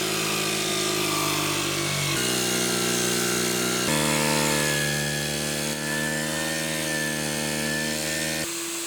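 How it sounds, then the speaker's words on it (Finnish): Random orbital sander working birch wood, a steady loud whine with shifting motor pitch as pressure changes, running continuously up close and stopping near the end. "Samalla pääsen testaamaan uutta epäkeskohiomakonettani."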